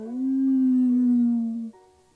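A human voice imitates a wolf's yawn, a single drawn-out howling tone that holds steady and then drops off abruptly into a brief lower trailing note.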